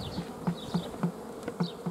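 Honey bees at the hive, a close, soft buzzing with short pulsing swells about every quarter second as individual bees fly past, no voices.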